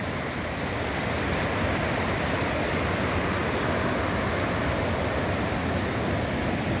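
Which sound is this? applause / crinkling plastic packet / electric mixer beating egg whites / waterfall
waterfall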